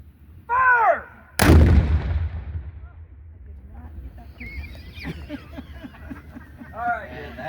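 An 8-inch Columbiad cannon fires at Fort Macon, one huge close boom that rolls away into echoes. A voice calls out just before the shot, and car alarms wail and chirp in the distance afterward.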